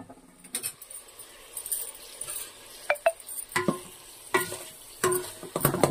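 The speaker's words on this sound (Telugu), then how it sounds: "మష్రూమ్ ఫ్రై అయిపోయింది." Mushrooms for a mushroom biryani frying and being stirred in a pan, with soft sizzling beneath several sharp scrapes and clinks of the spoon against the pan.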